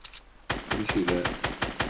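A rapid burst of gunfire from a weapon in Fortnite, eight or nine sharp shots fired in a steady rhythm after a brief quiet start, loud and close.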